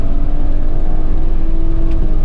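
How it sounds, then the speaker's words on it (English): An all-wheel-drive car pulls hard in second gear after a quick shift, its engine a loud, steady, close drone with a rising whine and no talking. "That was an awesome shift into second."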